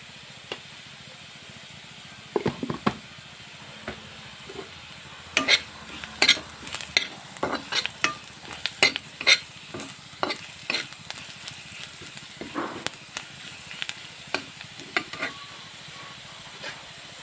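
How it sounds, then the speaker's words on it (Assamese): Small fish spice paste with ginger leaves fries in a pan, a soft steady sizzle running under irregular bursts of stirring and spatula scrapes, close and moderately loud, with no talking. "এইখিনিও মই 5-10 মিনিট ভাজি ল'ম।"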